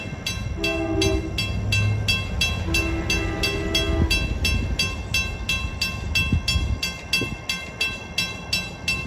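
Long Island Rail Road train 662, bound from Hunters Point Avenue to Port Jefferson, approaches 11th Street, sounding two long horn blasts over a steady rumble while a fast, regular clicking pulses throughout.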